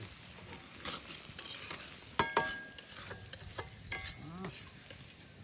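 Onions with salt, turmeric, fish masala, Kashmiri chilli powder and cumin powder fry in a pan outdoors, a soft continuous sizzle broken by spoon scrapes and a couple of sharp metallic clinks against the pan.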